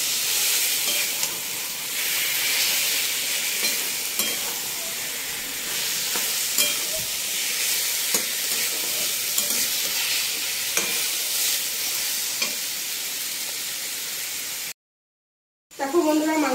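Meat being stir-fried and seared down in a pan with little water, a continuous hissing sizzle broken by periodic spatula scrapes and taps, cutting to silence briefly near the end.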